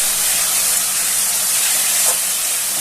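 Onion, garlic and ginger paste hits hot oil in a pan with a steady, close broadband sizzle and hiss that runs throughout, with a brief stronger burst near the end.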